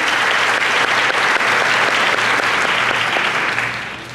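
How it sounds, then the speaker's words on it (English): An auditorium crowd at a dairy festival pageant gives a round of applause, sustained clapping that stays loud for a few seconds before fading out at the end. "Give Sabrina one more round of applause,"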